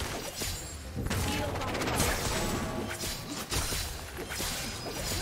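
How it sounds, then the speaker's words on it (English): A turret being destroyed in League of Legends, heard as a dense, continuous barrage of crashing, crumbling impacts and blasts that stays loud through the whole stretch, with faint voice-like sounds mixed in. "Blue team's turret has been destroyed."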